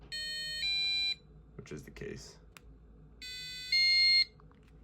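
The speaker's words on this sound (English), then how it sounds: "the passive buzzer should sound and the garage should not function" A passive buzzer on a garage prototype sounds two steady tonal beeps, each stepping up in pitch partway through, separated by a brief pause with a voice speaking and some handling noise.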